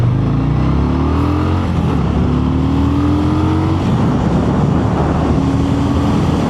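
A Harley-Davidson Fat Boy motorcycle being ridden, its engine loud and close with a steady throaty drone and rising pitch as it accelerates, and no talking.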